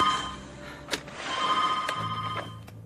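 A telephone rings in a dramatic action scene, its bell-like tone sounding in repeated bursts over a murky background of room noise, fairly close and moderately loud.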